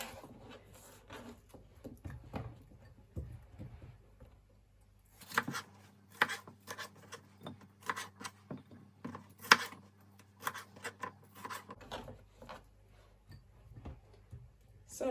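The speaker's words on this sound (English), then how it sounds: "So I'm going to cut my peppers. So just cutting these in squares really." A knife cuts bell peppers into squares on a board, making quick, crisp chopping taps in irregular clusters, close and fairly quiet, with brief pauses between runs.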